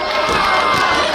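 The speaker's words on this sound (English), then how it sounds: "Crowd coming alive once again, trying to rally behind Jose" Wrestling crowd at a Beyond Wrestling match, a loud dense wash of cheering and shouting voices, continuous and close, with rhythmic chanting pulses.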